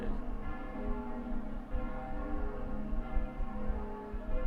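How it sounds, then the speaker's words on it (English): Bells ringing in a video game, a steady, dense layer of sustained metallic tones that hum and shimmer continuously throughout at moderate volume, with no talk. "Hell yeah, give me some bells, please."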